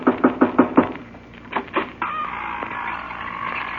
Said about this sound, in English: if we're going in to get the Wicked Witch, I better knock on the door.